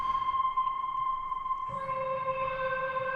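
Sustained tonal sample drenched in phasing and a long vintage-style reverb, a steady ringing drone that shifts to a fuller layered chord partway through, ambient and continuous with no voices.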